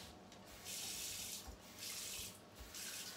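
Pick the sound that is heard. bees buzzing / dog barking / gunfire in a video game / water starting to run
water starting to run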